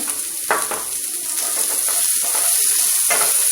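Chopped onions fry in a hot pan for rava upma, giving a steady bright sizzle with a few louder crackling spurts as they are stirred.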